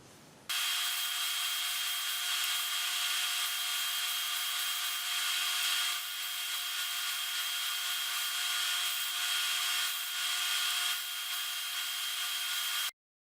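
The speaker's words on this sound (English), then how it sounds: "I'll sand these faces flush first on both sides, and then I'll sand this edge" Power sander working flat faces of wooden segmented wedges for a segmented platter, a steady high whirring and gritty rubbing held continuously for about twelve seconds, close and even, stopping abruptly.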